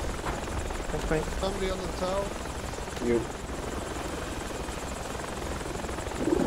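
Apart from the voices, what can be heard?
helicopter engine in video game Battlefield 2 Project Reality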